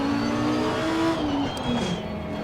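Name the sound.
Grasser racing car engine in video game Assetto Corsa Competizione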